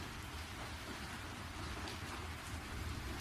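Steady heavy rain at night during a storm, a dense, even hiss with a low rumble underneath, faint and continuous with no voices.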